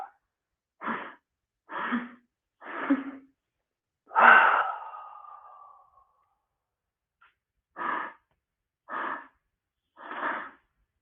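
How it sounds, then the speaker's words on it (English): Deep, slow breaths during a seated yoga session: three short stacked inhales, then one long drawn-out exhale, followed after a pause by three more sharp inhales. The breathing is close and clear, with no talking. "Inhale, inhale, inhale, exhale."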